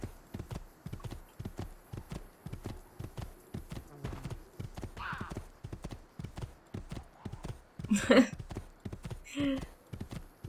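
Horse hooves clip-clopping across Tuscan countryside in Assassin's Creed II, a rapid rhythmic gallop running throughout, with a short whinny and snort near the end.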